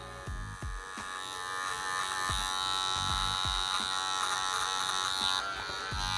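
An electric hair clipper fitted with a number 1 guard buzzes steadily while trimming a beard into a vertical fade, close and continuous, with small shifts in pitch as it moves through the hair.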